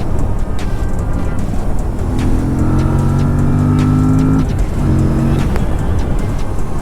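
A 2024 Aprilia RS457 motorcycle accelerates hard on the road, its engine note climbing in rising pitch through quick-shifter gear changes with brief breaks between pulls, loud and close with wind rush underneath.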